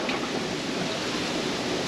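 Floodwater from a hurricane pours and drains steadily out of a swamped plastic container, a dense, continuous rushing splash at close range with no pauses.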